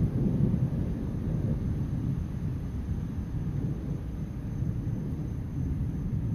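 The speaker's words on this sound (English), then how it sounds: "just listen to this sound of rain and thunder." Steady rain hisses while a low, continuous rumble of distant thunder rolls beneath it, fairly even in loudness throughout.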